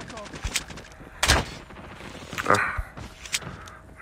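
Gunfire in Call of Duty Mobile on the Nuketown multiplayer map, with a handful of separate sharp shots spaced irregularly and fairly close, mixed with game background noise and brief in-game voice callouts.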